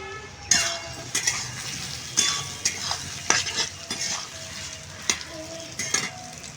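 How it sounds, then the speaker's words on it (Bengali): Onions browning in hot oil in a pan for a bhetki fish-bone chorchori, with a steady close sizzle and irregular scraping clatter of a spoon stirring against the pan. "এখানে দেখো পেঁয়াজ আমার ভাজা ভাজা হয়ে গেছে"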